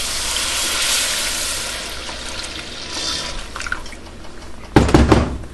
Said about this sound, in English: I'm just going to free pour my milk.